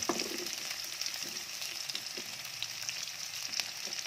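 Onions frying for an Indian-style chicken curry, giving a steady, even sizzle and crackle in hot oil with faint stirring, no voices.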